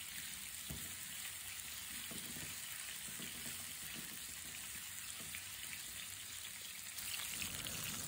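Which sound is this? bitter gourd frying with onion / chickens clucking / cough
bitter gourd frying with onion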